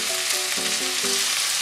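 Potato slices for German potatoes stir-fry in oil with salt, pepper and consommé, giving a continuous, even sizzle with soft stirring movement throughout.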